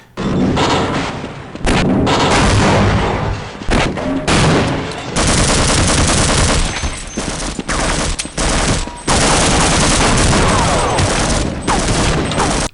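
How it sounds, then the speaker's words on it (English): Cannon blasts and rapid gunfire from soldiers in the first-person shooter Half-Life fill a loud, dense barrage of booms and bursts with only a few short breaks, with no speech. "you gotta avoid getting shot at by a cannon by jumping into the water below"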